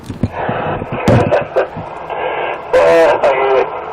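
A muffled radio plays a song with Chinese lyrics and a high, strained singing voice, tinny and distorted, with a few sharp knocks over the music.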